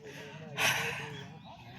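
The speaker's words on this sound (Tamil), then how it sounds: "ஃபுல்லாக மூச்சு வாங்குது" Heavy, labored breathing from a hiker climbing the steep Velliangiri hills, a sharp gasping inhale rising mid-clip and then drawn-out panting breaths close to the microphone.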